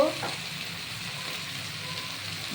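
Onion paste frying in a pan for egg and cauliflower curry, a soft steady sizzle that starts with a brief louder hiss as it hits the oil and then settles into a low, even crackle.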